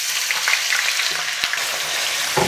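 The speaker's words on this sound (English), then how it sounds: "I'm going to add the onions in and we're going to fry them nice and slow" Onions frying slowly in hot oil, a close, steady crackling sizzle with occasional sharper pops and a brief scrape or clatter near the end.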